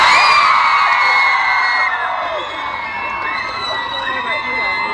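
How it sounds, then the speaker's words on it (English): A large crowd of young fans, mostly girls, screams loudly and continuously at a fan event in Finland for James and Oliver Phelps. The high-pitched shrieks and yells hold steady throughout, close and dense, with no clear talk over them. "the screaming is quite loud"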